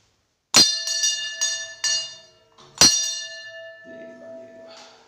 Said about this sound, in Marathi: आता मी आपल्या आता घंटी वाजवतो